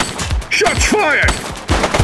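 Gunfire bursts in the police game The Precinct, loud and close, a few sharp shots mixed in with overlapping shouting voices.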